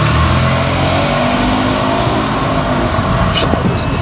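Porsche 997 Targa 4S, a 2007 model, with its engine accelerating close by; a steady, loud drone throughout with a slight rise in pitch toward the end.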